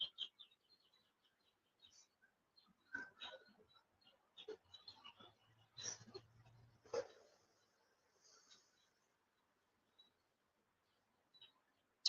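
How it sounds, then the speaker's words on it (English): Faint, scattered bird chirps in quiet outdoor air, a few short high calls spaced out over the stretch with long gaps of near silence. "hear the birds chirping"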